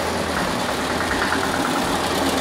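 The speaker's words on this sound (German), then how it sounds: "Standesgemäß mit einem Fendt-Klassiker fährt Carsten vor" A classic Fendt tractor's engine runs at a steady idle as it pulls up, a continuous low rumble of moderate loudness with no talk over it.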